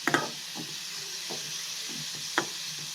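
Salted onions sautéing in a pan for chutney, with a soft, faint sizzle under a few sparse scrapes and taps of a spoon, quiet and close, no talking.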